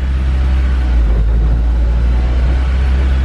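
An '06 Honda S2000 fitted with a new FX300 clutch, stability control switched off, cruises on a gentle break-in drive, giving a constant, loud low engine and road rumble with no talking.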